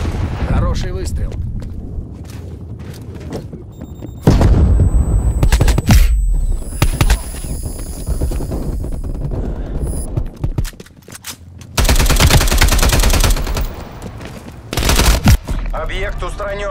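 Rapid automatic gunfire and bursts of shots in the video game Call of Duty: Black Ops Cold War come loud and close in repeated volleys, with game announcer voice lines and effects between bursts.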